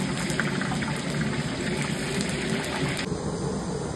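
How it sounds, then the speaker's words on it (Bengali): Water runs steadily from a tap while a pumpkin is washed, a continuous close gushing splash with a slight change in tone partway through. "কুমড়াটি ভালো করে ধুয়ে দাও"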